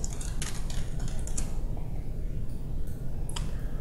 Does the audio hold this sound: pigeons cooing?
no